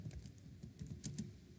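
Rapid typing on a computer keyboard, a close run of light, uneven key clicks with a couple of sharper taps, heard alone without talk.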